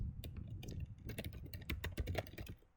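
Rapid, steady typing on a computer keyboard, with dense keystrokes clattering close by before tapering off at the end.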